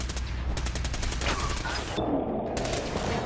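Gunfire in the video game Fallout 4: rapid automatic bursts rattle continuously and loudly, with overlapping shots forming a dense, sustained fusillade.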